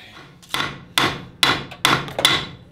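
A quarter inch wrench strikes metal during repair work on a John Deere 1050 tractor, giving five sharp, close clanks in a quick, uneven series with no speech.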